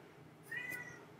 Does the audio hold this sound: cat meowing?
yes